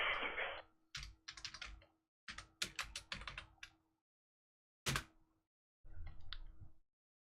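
Bursts of quick tapping on a computer keyboard, close and fairly quiet, with short pauses between runs of keystrokes and a brief louder clack near the end.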